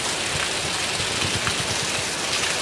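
Steady rain falls without a break, a dense, even hiss with soft patter, heard alone with no voices.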